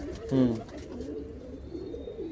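A single low coo comes from Andhra high-flying pigeons in a loft early on, close and brief, followed by quieter murmuring and faint room noise.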